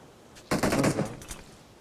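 A burst of distant gunfire in the PUBG Mobile game, a quick rattling volley of several shots lasting about a second, followed by a couple of fainter pops.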